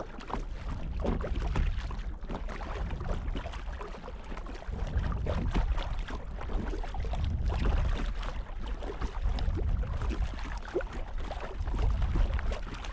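An ultralight kayak paddled across a lake: soft water swishes and drips from the paddle strokes over a low wind rumble, close to the microphone and steady, with no talking.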